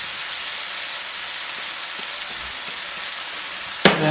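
Egg bhurji with spinach sizzles in a pan, a steady loud frying hiss throughout, with a sudden stirring scrape near the end.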